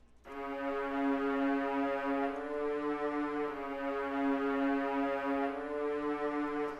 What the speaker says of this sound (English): And then the next sound I added was this string out of Expand,